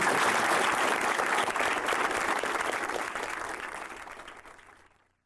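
A karate seminar audience applauds a participant, a dense, steady burst of clapping from a crowd that fades away over about five seconds.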